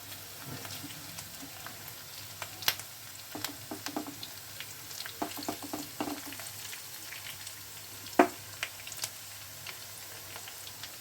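Paste of onion, ginger, garlic, green chili, almonds and cashews sizzles softly in a pan, a steady low fry with scattered pops and occasional stirring scrapes, close and fairly quiet.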